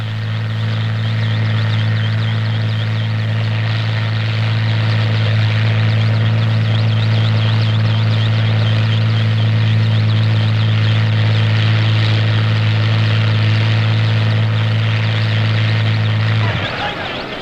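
Russian-presented helicopter flying over a ropeway and a new road with the king aboard, a loud steady low engine and rotor drone sustained almost throughout, cutting off near the end.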